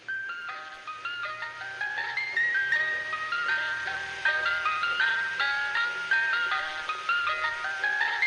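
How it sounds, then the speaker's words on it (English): A tinkling ice cream truck jingle, the kind heard every Tuesday on a suburban street, plays a bright repeating melody of music-box notes steadily and clearly for several seconds with no talking. "The ice cream truck."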